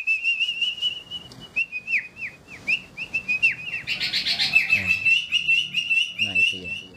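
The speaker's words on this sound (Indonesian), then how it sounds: "saya punya burung ajaib ya" A pet bird chirps and whistles repeatedly in a steady run of bright, close tweets and trills, loud and clear, with a faint voice at the end.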